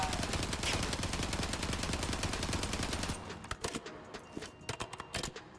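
Rapid automatic gunfire from a weapon in the video game Call of Duty Warzone, a loud sustained burst for about three seconds, followed by scattered separate shots and a few softer thuds.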